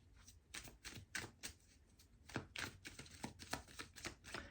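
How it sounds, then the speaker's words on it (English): Deck of tarot cards being shuffled by hand, with a quick run of crisp riffling snaps and flutters in bursts, close and quiet, with no one talking. "I'm going to shuffle some tarot cards"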